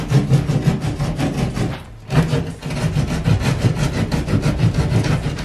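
A knife saws through bathroom tile backer board during demolition, rapid rhythmic rasping scrapes close and loud, with a brief pause midway before the strokes resume.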